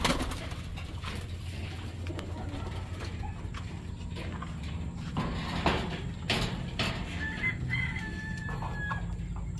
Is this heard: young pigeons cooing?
yes